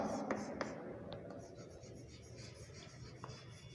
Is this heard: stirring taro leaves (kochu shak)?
no